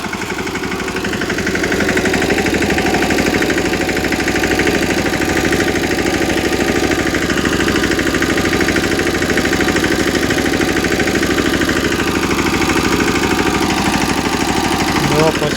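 A tractor engine runs nearby in a mustard field with a loud, steady, even rumble that holds without a break throughout.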